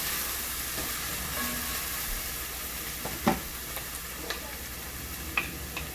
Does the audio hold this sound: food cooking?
yes